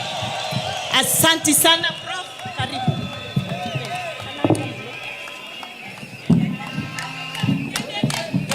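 A crowd at an Embu boda boda forum welcomes Kithure Kindiki with cheers and high trilling ululation, loudest early on, with scattered shouts and someone speaking over the noise.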